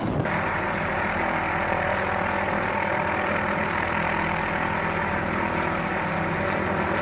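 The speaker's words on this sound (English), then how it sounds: "The Thompson 78C from London Luton was buffeted by crosswinds of up to 46 mph, forcing it to abort landing not once, but twice on the island of Skiathos." A Thomson airliner from London Luton aborts its landing at Skiathos in crosswinds of up to 46 mph, its engines a loud, steady, close roar that holds unbroken throughout with no talk.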